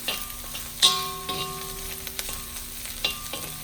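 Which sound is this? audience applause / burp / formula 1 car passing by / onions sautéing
onions sautéing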